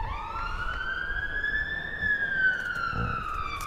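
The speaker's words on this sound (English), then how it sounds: "sirens squealing down the Sanford Road. It's a fire engine this time." A fire engine's wailing siren rises and holds in a long sweeping tone, moderately distant, over faint traffic background on a road.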